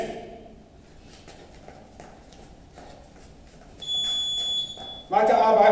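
A boxing gym's round timer gives a sustained electronic buzzer tone for about a second, with a louder burst right after, over a quiet, busy training-room background.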